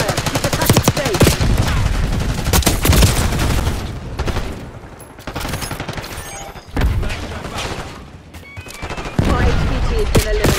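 Bursts of automatic gunfire in Black Ops 6 multiplayer, loud and close, with rapid volleys, brief pauses and a few heavier booms between rounds.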